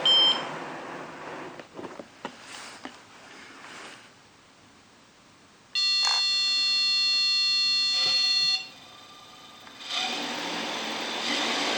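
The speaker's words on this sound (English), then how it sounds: "Okay, let's arm it. Okay, she arms." Flight controller on an F4-equipped quadcopter with an ESC fault arming: a run of steady electronic beep tones sounds close by, first a long held multi-tone stretch, then a second after a short pause, with light rubbing and handling noise before.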